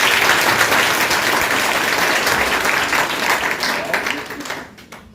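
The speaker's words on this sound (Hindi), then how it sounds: "एक बार और जोरदार तालियां बजाएं।" Loud, sustained applause from an audience at a selection celebration for a nursing exam institute, dense clapping throughout with voices mixed in, tapering off in the final second.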